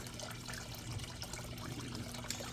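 Water gurgling and bubbling out of a hot tub filter, a steady close trickle with small popping bubbles over a constant low pump hum.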